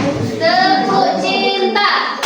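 Schoolchildren in a classroom chant the 'tepuk cinta' clapping routine together in a brief, loud, rhythmic burst of voices with a few claps.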